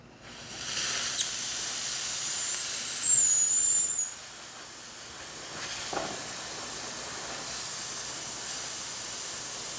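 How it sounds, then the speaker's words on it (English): Steam wand on a La Pavoni lever espresso machine, freshly serviced, giving a steady broadband hiss for several seconds that rises briefly with a high whistle, then settles to a quieter continuous hiss. "So let's test the steamer."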